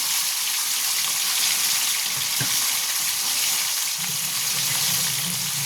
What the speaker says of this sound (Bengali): আমি এইগুলো এক পিঠটা ভেজে নিই